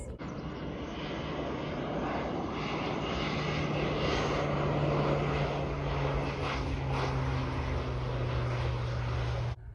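A crop-spraying fixed-wing airplane runs its engine loud and steady throughout as it flies low under power lines over a cornfield, the drone rising in pitch midway as it passes close by, with no talk over it.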